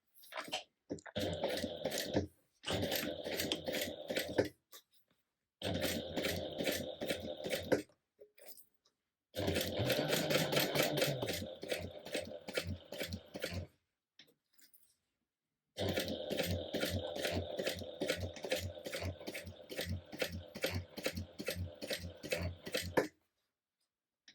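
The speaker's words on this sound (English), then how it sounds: "we're going to sew down this straight edge here at 1/4 inch seam allowance" A sewing machine stitches a straight edge on a tote bag at a quarter-inch seam, dense rapid needle chatter in several long runs broken by short pauses, close and steady.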